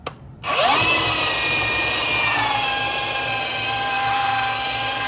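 A Bauer cordless 3 x 18 inch belt sander spins up and grinds into a piece of cedar under heavy pressure, a loud steady whine with a rough abrasive rasp, close by and alone.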